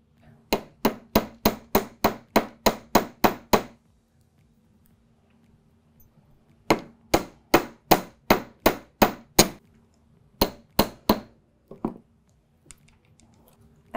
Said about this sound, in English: I am gonna go ahead and hammer these out like I did the others.